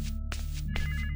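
Telephone rings in a Chucky Child's Play horror video game, two clear electronic ring bursts repeating close and loud over a steady low game hum, with no talking.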